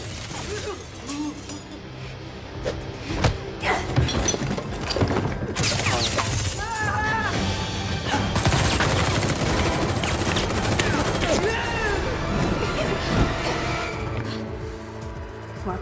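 Heavy gunfire in a sniper action film about a battle with a drug lord: rapid machine-gun bursts and single shots crack loudly over roughly sixteen seconds, mixed with crashes and other action noise.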